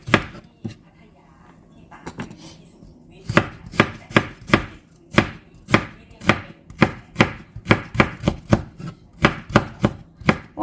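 Rapid, regular knife chops strike a board up close as vegetables are cut small, a few scattered cuts first, then a steady rhythmic run of sharp thuds.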